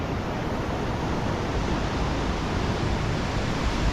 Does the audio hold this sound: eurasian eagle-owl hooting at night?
no